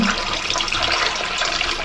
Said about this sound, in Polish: troszkę lodu w miseczce. Zalewamy go wodą.